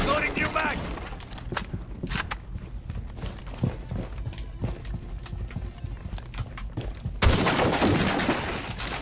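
Gunfire in Rainbow Six Siege: scattered sharp shots and short bursts under voices, ending in a louder, denser stretch of fire.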